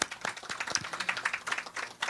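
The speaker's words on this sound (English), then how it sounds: "we give a round of applause" A round of applause at a lighthouse recommissioning ceremony in Tobago, with moderate, steady clapping from a gathered audience that keeps going for a couple of seconds, fairly close and without talk over it.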